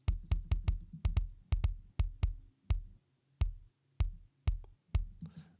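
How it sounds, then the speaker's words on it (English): A deep, punchy drum-machine kick sample called a very fat kick thumps alone in a repeating beat pattern, about twenty short booming hits with brief pauses. "There's this kick called a very fat kick."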